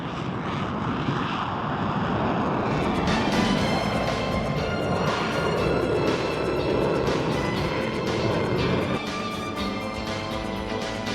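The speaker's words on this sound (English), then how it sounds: "We have an F-16 that's going to land." An F-16 Fighting Falcon jet lands at the 1990 Pratt & Whitney air show, heard as a steady, broad, windy roar that stays loud throughout with no talking.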